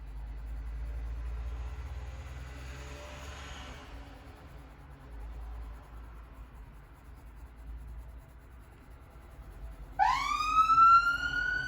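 Low rumbling background, then a siren suddenly blares loud and close, its rising wail starting abruptly near the end.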